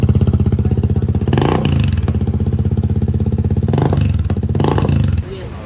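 A Kymco Xciting VS 400 scooter fitted with an Akrapovic carbon exhaust idles with a loud, close, steady rapid thumping pulse, blipping briefly a few times before cutting off near the end.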